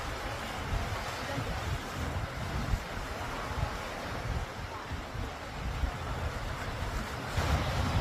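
Rough stormy Caribbean Sea surf off Aruba roars and crashes continuously, heavy and close, with strong wind buffeting the microphone throughout.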